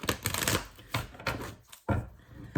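A deck of cards being shuffled in several quick riffling bursts with short pauses between them, close and clear, with no one talking.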